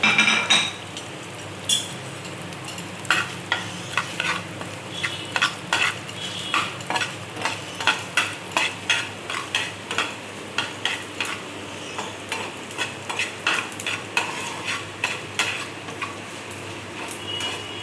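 Green chillies sizzling in a pan with spices for Bengali sweet mango pickle, a spatula scraping and stirring in regular strokes, close and fairly loud, with a steady hiss underneath.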